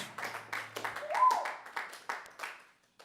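Live audience clapping at a small Longmont music session following a singer-songwriter's set, a scattered round of hand claps of moderate volume that tapers off toward the end.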